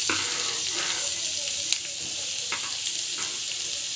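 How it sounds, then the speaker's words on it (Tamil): Oil sizzling steadily in a pan as onions fry for a dhaba-style mushroom gravy, a dense continuous hiss with a few faint clicks and stirring touches, no talking. "ஆயில் நல்லா காஞ்சி பிறகு வெங்காயம் வந்து போட்டுக்கலாம்."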